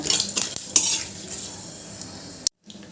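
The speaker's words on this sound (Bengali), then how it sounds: "এবার দিয়ে দিচ্ছি তেজপাতা শুকনো লঙ্কা আর গোটা জিরে এবার ফোড়নটা একটু ভালো করে ভেজে নেব" Bay leaf, dry red chilli and whole cumin tempering in hot oil, a close sizzle with a spoon scraping and clinking against the pan a few times, then a brief drop to silence.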